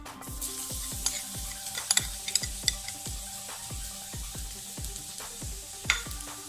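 Chopped garlic sizzling in hot olive and sesame oil, a steady crackling fry with a series of repeated sharp knocks like a utensil tapping the pan, close and fairly quiet, no talking.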